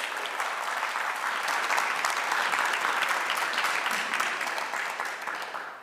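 An audience at a book festival event applauds its sponsors, a dense, steady wash of clapping from many hands that holds strong throughout and eases slightly at the end.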